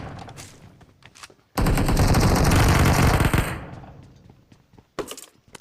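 Automatic gunfire in an online shooter video game comes as one loud, close burst lasting about two seconds, then fades out. Sharper single reports and clicks come before and after it.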